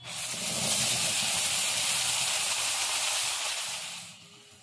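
Ground spice paste hitting hot oil for a fish curry, a sudden loud, close sizzle that holds steady for several seconds and then tapers off, with no one talking.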